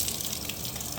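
Water runs steadily from a tap at a foot-washing spot by a sandy ocean-view balcony, a continuous close gushing splash with no talk over it.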